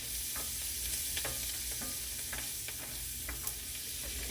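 Flour is stirred into vegetables in a pot for rooster and dumplings, giving quiet scraping and tapping strokes over a low, steady sizzle, with no voices.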